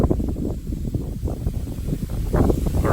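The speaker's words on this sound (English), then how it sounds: "Man, it's windy again today." Strong wind blowing outdoors on whitetail deer property near a hunting blind, buffeting the microphone in loud gusty rumbles with some rustling, continuous and close, with no talking.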